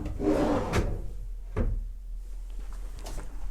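A wooden wardrobe drawer in a newly built apartment slides open and shut nearby, giving a rubbing glide and a couple of soft knocks over quiet room tone, with no talking.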